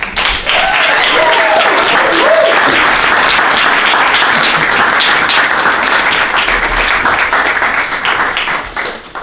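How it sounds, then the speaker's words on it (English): An audience applauds a guest speaker at a talk, the clapping dense, sustained and loud for about nine seconds, easing slightly at the end, with a brief voice heard early on. "So please give a round of applause for Marisa"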